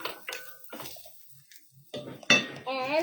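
Vegetables are tossed in an oiled pan, with a few close clinks and scrapes of utensil against metal mixed in among bursts of nearby talking.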